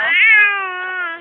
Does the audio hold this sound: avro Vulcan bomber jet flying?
no